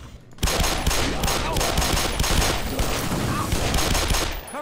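Sustained rapid gunfire in the game Black Mesa, a loud dense stream of shots lasting several seconds after a brief quiet start, fading near the end.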